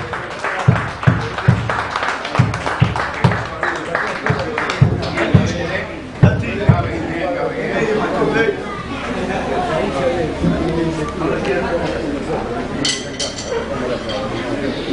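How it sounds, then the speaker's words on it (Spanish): Audience at a club anniversary awards ceremony applauds a prize winner, a burst of clapping mixed with crowd chatter and clinking dishes, talk continuing throughout. "Un fuerte aplauso, por favor."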